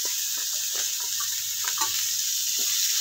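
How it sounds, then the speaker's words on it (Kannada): Onion and garlic sizzle steadily in hot oil in a pan, with a continuous close hiss and a few light stirring scrapes, no voices. "ಈರುಳ್ಳಿ ಬೆಳ್ಳುಳ್ಳಿ ಫ್ರೈ ಆಗಿದೆ"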